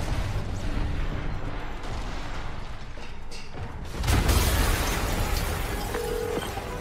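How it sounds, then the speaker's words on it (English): In the video game Marvel's Spider-Man Remastered, an explosion bursts midway with a sudden booming roar over an already noisy, rumbling game soundscape, then the roar carries on at a slightly higher level. "an explosion just... I saw it."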